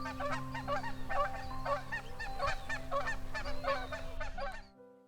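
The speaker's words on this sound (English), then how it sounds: "Even the geese are ready for us to get started." Geese honking repeatedly in a rough, overlapping chorus near a spring trout-fishing stream, the calls fairly loud and steady before cutting off abruptly at the end.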